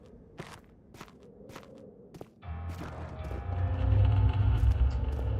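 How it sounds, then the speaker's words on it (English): Footsteps in the horror game Amnesia: The Dark Descent: several slow, sharp steps echo close by in a quiet space, then a deep rumbling drone swells and dominates the rest. "Those footstep noises though, man."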